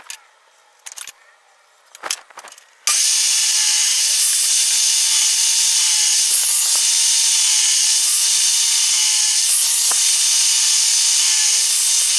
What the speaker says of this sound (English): now I'm just gonna cross cut them at the right length